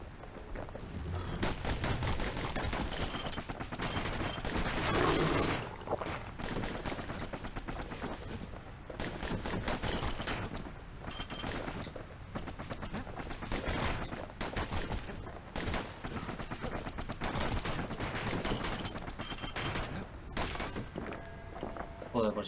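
The Kid's guns fire in the video game Bastion in rapid, repeated bursts of shots, loud and dense over the whole stretch, while a narrator and a player talk over it.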